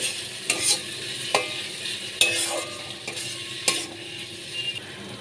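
Potatoes with poppy seed paste are stir-fried in a pan, a steady sizzle punctuated by several close, sharp scrapes of a spatula at irregular intervals, with no talking.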